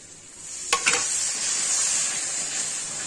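Fried jackfruit and potatoes drop into hot oil, setting off a steady bright sizzle with two quick clatters of the pieces landing early on, then a continuous hiss carrying on close and fairly loud.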